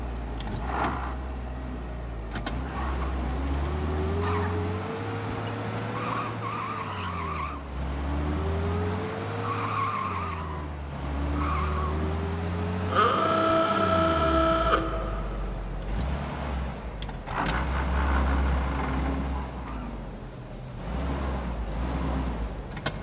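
A car in Mafia: Definitive Edition drives with a steady engine drone, rising and falling revs, and repeated tire skids across the whole stretch, with a brief harsh squeal burst midway; no talk.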